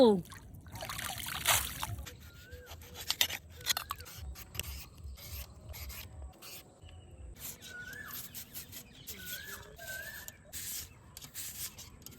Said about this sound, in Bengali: আমগুলোকে ভালো করে ধুয়ে নেব।